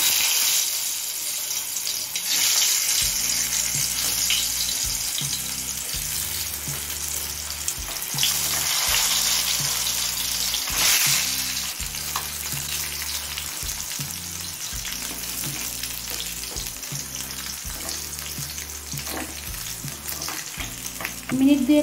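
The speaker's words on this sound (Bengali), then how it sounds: "এবার পটলগুলো ভেজে নেব।" Pointed gourd pieces fry in hot mustard oil in a pan, a continuous close sizzle with regular scraping and stirring knocks throughout, no talking.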